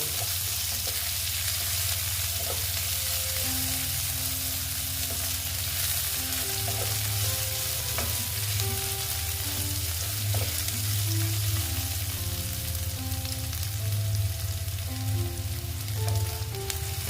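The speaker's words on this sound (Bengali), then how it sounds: "পেঁয়াজ কুচিটা দিয়ে একটু আমি এটাকে ভেজে নেব" Chopped onion fries in hot oil for a katla fish kalia, giving a loud, continuous close sizzle with scraping spatula strokes stirring the pan throughout, no voices.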